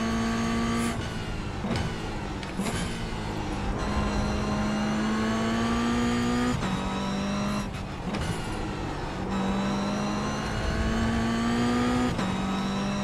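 Race car engine in the iRacing sim, droning loudly and continuously with repeated rev rises and sharp drops at gear shifts, steady throughout with no talk.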